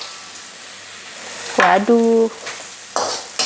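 Dried shrimp (ebi) sizzle and fry in about two tablespoons of oil in a pan over high heat, a short loud burst of frying with brief speech over it.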